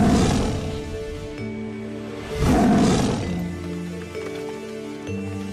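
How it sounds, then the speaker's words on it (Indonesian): A huge tiger roaring in a folk tale, deep rumbling growls that swell into a loud full roar midway, then settle into low snarls, close and powerful. "tubuh Menak Sopal berubah menjadi harimau yang sangat besar"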